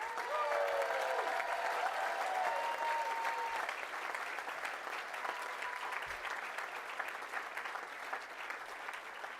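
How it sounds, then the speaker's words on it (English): Steady, dense applause from a graduation ceremony audience at the University of West London, sustained clapping throughout, with faint cheering and a brief tonal sound early on. "Let's give those guys another round of applause."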